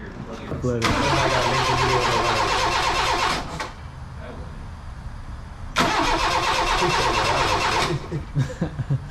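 A Honda CRX engine cranks repeatedly without catching, two long loud bursts of the starter whirring with a pause between, followed by short choppy attempts and brief talk.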